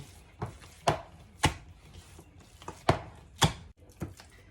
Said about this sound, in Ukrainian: Ну і, звичайно, я фарш завжди відбиваю.